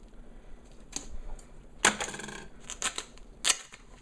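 Duct tape is pulled and pressed onto a homemade Nerf holster: a few close, sharp crackling rips and snaps with quieter rustling between them, no one speaking.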